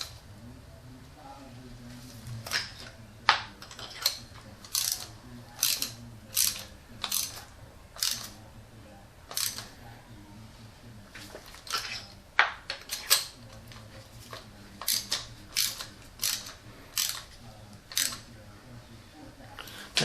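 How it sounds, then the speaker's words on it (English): Ratchet clicks in quick repeated bursts while spark plugs are torqued down on a Lexus ES300 engine. The sharp metallic clicking comes up close and fairly faint over a low hum. "Alright, so now I'm going to torque these down."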